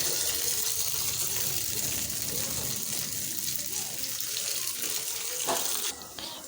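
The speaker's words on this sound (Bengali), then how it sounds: "এখন তেলের মধ্যে একটা একটা করে দিয়ে দিচ্ছি।" Pieces of food sizzle as they go one at a time into hot oil, a steady loud hiss that fills the clip and drops off near the end.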